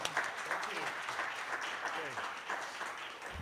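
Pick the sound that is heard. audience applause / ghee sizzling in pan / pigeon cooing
audience applause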